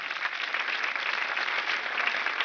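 Steady applause from an award ceremony audience in a cinema hall, honoring nominees who did not win, a continuous even wash of clapping throughout the short stretch with no voices.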